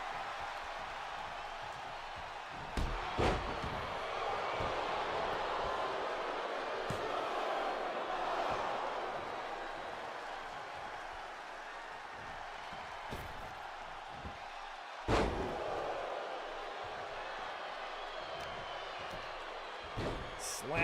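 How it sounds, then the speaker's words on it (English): A professional wrestling match in an arena, with a wrestler slamming an opponent's head into the mat; sharp thuds land near 3 and 15 seconds over a steady roar of crowd noise, with a commentator talking throughout. "Slamming Paragon's head into the mat."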